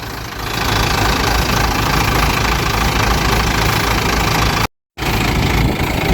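A tractor engine idles at low RPM after tilling muddy rice paddy ground, a loud, steady knocking rumble close by, broken by one brief dropout.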